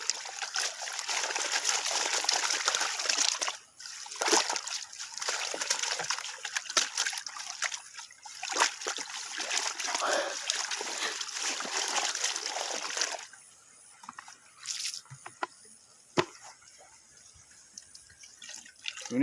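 Water splashes and drips continuously as freshly caught fish are washed by hand, busy sloshing for several seconds, then thinning to sparse trickles and drops.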